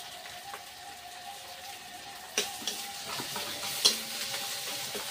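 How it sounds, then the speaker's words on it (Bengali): Ginger-garlic paste hits hot oil in a pan, producing a moderate sizzle with a couple of sharp spatters and stirring scrapes partway through. "এবার আদা রসুন বাটাটা দিয়ে দিচ্ছি।"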